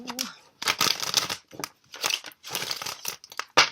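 Tarot cards are shuffled with a bridge, giving repeated bursts of crisp riffling and papery flutter in an uneven rhythm, close to the microphone, after a brief snatch of voice at the start.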